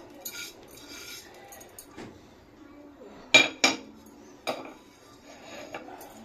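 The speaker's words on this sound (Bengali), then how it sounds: "এই দুধেই দিয়ে দেব সেই ভেজে রাখা সেমই, কাজু, কিশমিশ, এলাচ সবগুলো দিয়ে দেব। এই দিয়ে ক্রমশ এটাকে আমি নাড়তে থাকবো।" Fried vermicelli, cashews, raisins and cardamom stirred into milk in a pot, with a few sharp metal spoon clanks against the pan and softer scraping between them, close and otherwise fairly quiet.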